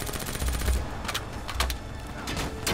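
Rapid bursts of automatic gunfire in the Call of Duty: Black Ops III game, several sharp volleys in quick succession over a few seconds, loud and close, with no speech.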